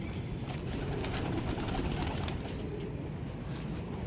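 A pigeon coos in a low, continuous throaty murmur, close and steady throughout, with no talk over it.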